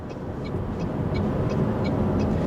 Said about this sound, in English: this 4-cylinder does make some noise